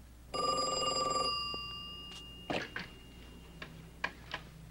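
A telephone bell rings loudly in a quiet room for about a second, followed by sharp clicks and handling taps as it is picked up and dialed.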